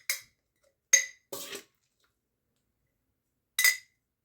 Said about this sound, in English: You want to press it down. On every single jar.